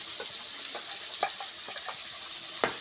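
Steady sizzling of a curry with mixer-ground sesame masala frying in a pan, with soft scraping and clinks from stirring at irregular moments throughout.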